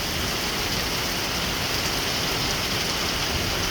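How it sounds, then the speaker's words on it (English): Steady rain pours onto a leaking house roof, a dense, even hiss of drops that stays constant throughout and has no voices. "Yeah man, it's raining, and the house top is leaking."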